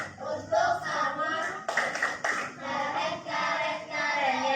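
A classroom of pupils does thumb clapping together, a dense run of hand claps with a louder burst partway through, mixed with children's voices.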